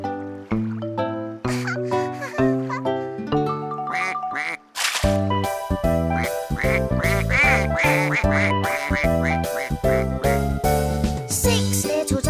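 Many cartoon ducks quack loudly and repeatedly in rapid, overlapping bursts, continuing nearly nonstop after a brief pause partway through.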